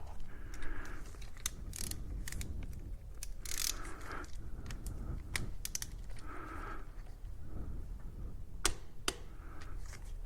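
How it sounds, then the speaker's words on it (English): Torque wrench set to 15 newton meters tightening a bolt on a Husqvarna 701 water pump, a series of quiet ratcheting clicks and taps with low background rumble. "I've got my torque wrench set to 15 Newton meters"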